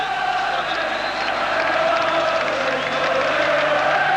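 Massed football supporters singing and chanting at a Rangers v Celtic match in 1986, a broad, steady roar of voices filling the stadium without pause, heard at a distance.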